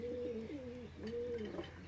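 Teddy pigeons cooing close by in a soft, repeated rolling pattern, two coo phrases in quick succession with no talking over them.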